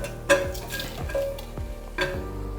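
Spices and Kitchen King masala roasting in a pan, a close sizzle broken by repeated spatula scrapes and knocks against the metal roughly every half second, no talk.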